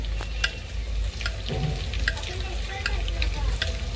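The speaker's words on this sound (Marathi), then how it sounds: "त्याच्यामध्ये थोडासा कांदा घेतलेला आहे कांदा फ्राय झाल्यानंतर त्याच्यामध्ये टाकलेला आहे आलं लसूणची पेस्ट" Onion frying in a tempering for pav bhaji, a loud, close, continuous sizzle with crackling pops and occasional stirring scrapes, no voices.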